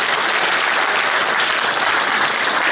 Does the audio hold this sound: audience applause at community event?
yes